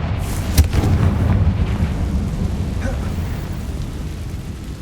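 Confringo blasting spell cast in Hogwarts Legacy, heard as a dense rumbling burst of fiery blast noise. A sharp crack near the half-second mark rises out of a steady low roar that lasts the whole clip, loud and close.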